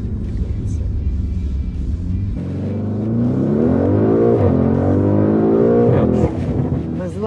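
A 1001 hp MTM-tuned Audi RSQ8 accelerates hard. Its loud engine note climbs steadily in pitch through the run, with voices talking over it.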